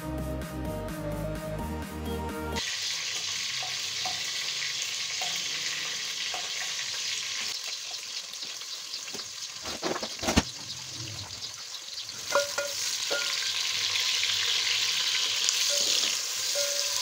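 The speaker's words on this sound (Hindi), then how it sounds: "कढ़ी के लिए मैंने प्याज काटा है, इसको मैं हल्का हल्का सा फ्राई करूँगी अभी" Chopped onion frying lightly in a pan for kadhi, a continuous loud sizzle with occasional stirring scrapes and clatters, following a short burst of music at the start.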